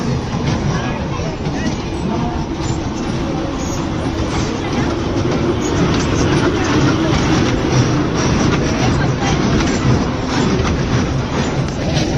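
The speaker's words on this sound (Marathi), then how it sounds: "आणि ही आहे ट्रेन" A train rumbles past nearby in Kalyan, a steady loud roar of wheels and cars on the rails lasting throughout.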